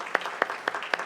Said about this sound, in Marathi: आपण सगळेजण टाळ्या वाजवूयात